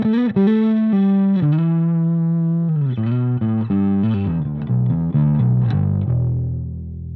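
Dirty, heavily distorted electric guitar through an Orange Crush 50 amplifier with the gain at a quarter, playing sustained chords and then shorter chopped notes, loud and steady throughout with no voices.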